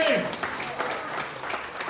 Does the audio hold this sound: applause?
yes